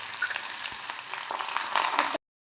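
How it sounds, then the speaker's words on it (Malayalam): Chopped onions dropped into a hot pan with curry leaves, sizzling steadily and close for about two seconds before cutting off abruptly. "അതിലേക്ക് ചെറുതായിട്ട് അരിഞ്ഞു വെച്ചിരിക്കുന്ന സവാള ഇടുക"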